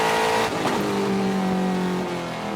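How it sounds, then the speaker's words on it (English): A Trans Am race car at Laguna Seca accelerates hard up the hill, its engine note climbing through second into third gear, loud and close, with a brief shift break. "Second gear, hard on the gas, into third, going up the hill"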